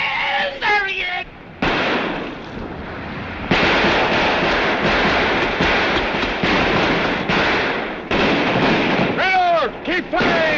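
In a 1936 film, a gunfire barrage across the water cracks out in rapid, loud bursts and rolling blasts, with shouting voices breaking in at the start and near the end.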